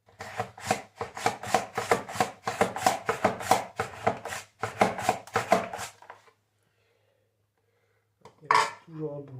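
Potatoes pushed across a folding portable mandoline to cut fries, a rapid run of rhythmic close slicing strokes, then a pause and one more cut.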